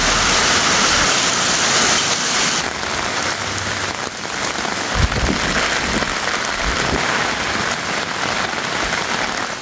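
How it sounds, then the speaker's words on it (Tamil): A heavy summer downpour in Tamil Nadu roars loud and close, a dense, continuous wash of rain hammering surfaces with no pause and no voices. "திடீரென கனமழை பெய்தது"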